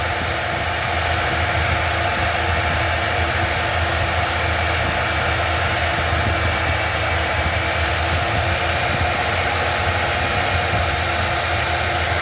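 A Buick LeSabre engine with a carburetor that needs adjusting runs steadily and loudly up close for the whole stretch, a constant droning idle with no voices over it.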